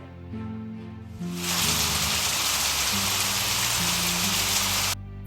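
Steady heavy rain hisses down on a surface, rising abruptly after a soft tonal intro and continuing evenly before a tone returns at the end.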